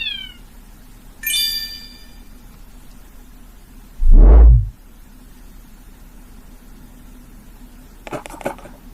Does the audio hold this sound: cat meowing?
yes